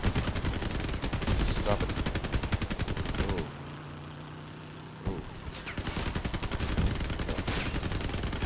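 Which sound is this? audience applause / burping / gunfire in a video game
gunfire in a video game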